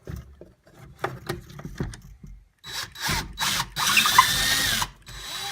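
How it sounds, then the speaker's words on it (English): Clicks and handling noises, then a power drill whines in a few short bursts before a longer sustained run as it bores a hole through a wooden stud. "I'm going to drill a hole through this stud right here"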